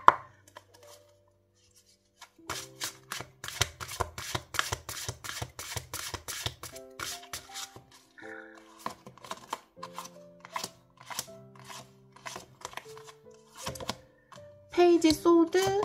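Tarot cards are shuffled and handled in a quiet room, a series of crisp riffling and tapping bursts, with a voice speaking briefly near the end.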